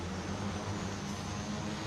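Steady, loud droning hum of the India-made Varuna heavy-lift drone in flight, with low engine-like tones running unbroken and close throughout, no voices.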